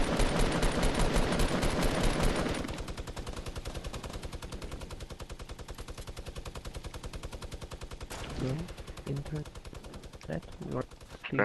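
Rapid automatic gunfire in Fortnite, a loud, fast rattle of shots for several seconds, then a steadier stream of quieter fire with scattered single reports as squad players talk over it.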